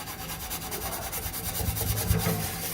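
Chain mail scrubber worked back and forth over a cast iron skillet to polish the seasoning, a steady rhythmic scraping and rubbing with fine metallic rasp, fairly close and moderately quiet.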